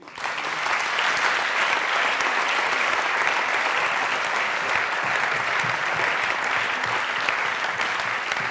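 Audience applause for musical performers called back to the stage at a concert, a loud, sustained wash of clapping from a large crowd, steady throughout.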